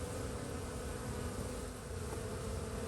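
Dense honey bees hum steadily around a hive box, a continuous close swarm buzz with no pauses and no voices.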